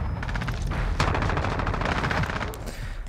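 Shotgun fire in Call of Duty Modern Warfare, a series of heavy close blasts in quick succession over a dense, loud background of game noise.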